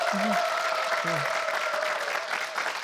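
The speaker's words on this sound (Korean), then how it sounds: "자, 마음 변치 마시라고 박수 한번 좀 보내주세요." Steady applause from a studio audience at a televised public Q&A with a government minister, moderate in level, with a voice briefly speaking over the start of the clapping.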